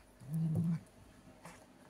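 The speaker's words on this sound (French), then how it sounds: "elle montre un peu, elle grogne un peu" A low, rumbling growl from a cat while eating, brief and fairly close, rising and fading within about half a second, followed by quiet room noise.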